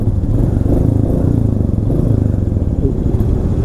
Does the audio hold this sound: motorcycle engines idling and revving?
yes